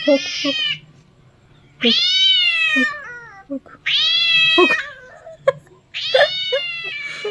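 A cat meows loudly and insistently, four long drawn-out cries separated by short pauses, close by.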